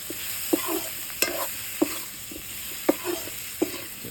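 Turmeric, cumin, ginger and garlic sizzle in pork fat while a spoon scrapes and stirs the pan in steady periodic strokes, close and alone with no talk.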